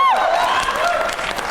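Studio audience claps and cheers at an Indian television news broadcast celebrating the Aditya L1 solar mission launch, a short burst of applause with a voice and tonal sound over it.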